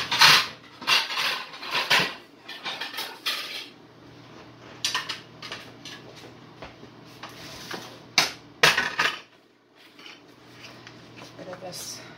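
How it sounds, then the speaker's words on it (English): Ceramic plates and dishes clatter and clink as they are taken out for supper in a home kitchen, several sharp knocks in bursts with quieter rustling between, some faint talk in the background. "I'll get the plates out and that'll be that."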